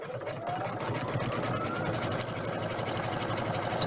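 A sewing machine runs steadily at close range, stitching along fabric edges with the presser foot used as a guide, its rapid motor whir and needle clatter continuous throughout.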